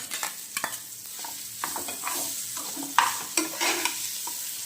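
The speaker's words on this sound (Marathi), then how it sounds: "आता आपण जे मटार पिसलेले आहेत तेही टाकून घेऊया" Ground peas are stirred into a spice mixture frying in a pan with fennel and coriander powder, giving a soft sizzle under repeated scraping stir strokes, close and moderately quiet.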